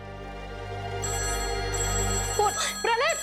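A faint electronic telephone ringing tone repeats under a steady low hum; no voices are heard.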